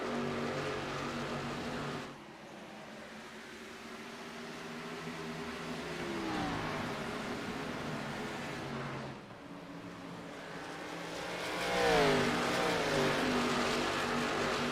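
NASCAR Xfinity race car engines in the iRacing simulator, a steady droning roar with pitch rising and falling as cars pass and accelerate through the turns, continuous and fairly loud, without talk.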